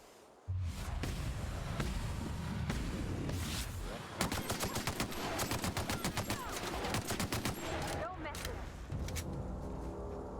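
Rapid gunfire in the Outer Worlds video game, a sudden opening burst followed by sustained automatic fire and a dense run of sharp shots, loud and close, with a voice speaking over it.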